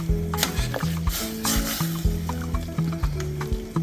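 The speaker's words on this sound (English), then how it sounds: "we stir the pasta a little bit to keep it from sticking" Spaghetti being stirred in a pan while it boils, with soft wet squishing and scraping strokes in a loose repeating rhythm over a steady bubbling hiss, close and fairly quiet.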